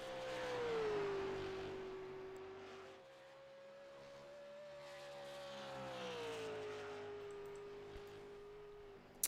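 Race car engine droning steadily around Dover International Speedway during a Thunderstruck Super Series race, heard from a distance with a smooth rising and falling pitch, faint and alone.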